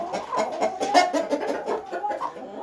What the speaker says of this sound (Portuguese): Aqui na nossa baia dos Brahmas também, nós temos o nosso galo lindo ali.